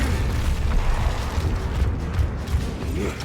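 Rumbling explosion blasts in the third-person shooter Gears of War Reloaded, a dense, sustained low boom with crackling debris running steadily for about three seconds, loud and with no talk over it.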